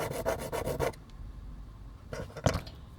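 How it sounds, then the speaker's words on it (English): A file rasps down a rivet on a Transformers toy, a quick run of rhythmic close scraping strokes, then a pause and a few more short rubs, with no voices. "Now let's file down another rivet."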